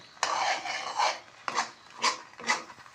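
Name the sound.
stirring and roasting chana dal halwa in a kadhai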